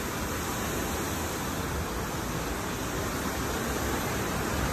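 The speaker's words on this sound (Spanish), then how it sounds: "Estos son unas cascadas." A waterfall at Cerrito Plain, Tennessee roars as a dense, continuous hiss of falling water, close and uniformly loud throughout with no breaks.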